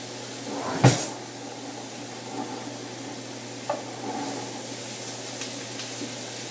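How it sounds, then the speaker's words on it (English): Lemon juice hits a hot pan of pasta primavera vegetables, bursting into a sharp sizzle that settles into soft, lower frying, broken by a couple of faint clinks and scrapes. "Wouldn't be a pasta primavera without the lemon. It's going to help deglaze the pan too."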